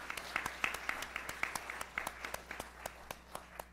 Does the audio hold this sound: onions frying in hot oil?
no